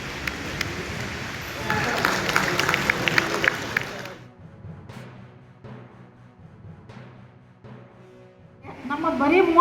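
Loud applause from an audience at a postal insurance compensation cheque distribution event, dense clapping for about four seconds, then quieter gaps with scattered noises before another swell of sound at the end.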